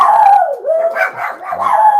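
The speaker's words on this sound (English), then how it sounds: "Those are the dogs. 2 Chihuahua mixes." Two Chihuahua mix dogs howling and yipping together indoors, a loud close wavering howl with short barks breaking through, continuous for the whole stretch.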